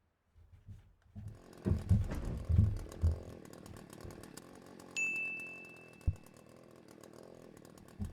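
A chainsaw in the video game Berry Bury Berry: a buzzing, revving motor drone with some heavier thumps early on and a single bright ringing tone midway, fairly quiet overall.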